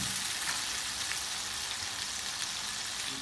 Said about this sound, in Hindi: अभी प्याज सॉफ्ट कर लेते, डालने के बाद थोड़ा सा सॉफ्ट कर लेते प्याज को